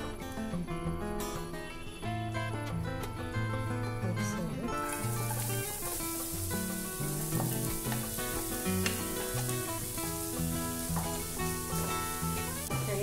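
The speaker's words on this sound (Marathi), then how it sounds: "गाजर इथे छान परतून घेतलंय तुपावर" Grated carrot fries in a few spoonfuls of ghee in a kadhai for carrot halwa, a soft continuous sizzle beneath louder background music.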